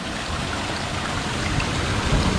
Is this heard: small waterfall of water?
yes